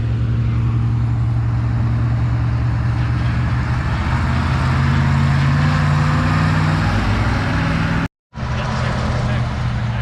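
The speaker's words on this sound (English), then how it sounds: "to Sean, on these last two tractors, the white 856 and this 1256." A tractor engine roars at a fall tractor pull in Lynden, a loud, steady low drone that builds slightly in strength and holds for most of the clip before cutting out abruptly near the end, then resuming.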